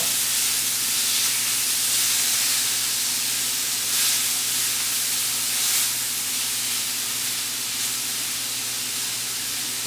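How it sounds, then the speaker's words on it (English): Steak sears in tallow in a pan on a stove, giving a steady, close, loud sizzling hiss that holds without pause, with no talking. "cooking the steak on the stove like we've got it going on right here"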